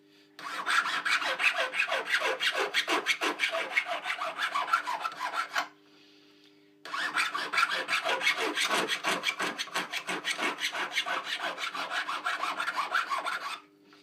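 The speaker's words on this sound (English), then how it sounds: "Just filing the top now to blend it into the sides." A hand file works the top of a gold wedding ring at close range, giving a long steady run of rhythmic rasping strokes, a short pause, then another equally even burst of rasping.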